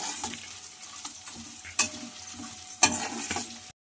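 Mavinakayi chitranna mixture sizzles and fries in oil in a pan, a steady close crackle broken by short stirring scrapes and a few sharper spatters, with no voices.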